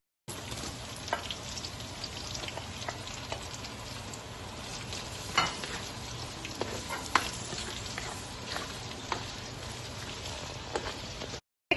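Garlic sizzles steadily in hot oil in a pan while pancit bihon is cooked, a continuous close crackle with scattered louder pops and the odd stir, no voices.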